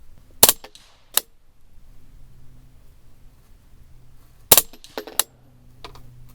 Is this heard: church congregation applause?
no